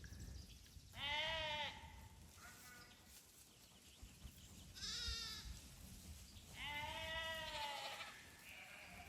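Hair sheep bleating in a farm yard, a ewe calling for her lamb: three loud, wavering bleats spaced a few seconds apart, close by, over low yard background.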